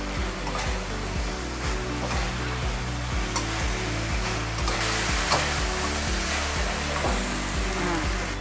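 Sea bass stir-fried with celery, spring onion and red chilli over high heat, giving a loud, continuous sizzle with clattering tossing and scraping from a close wok.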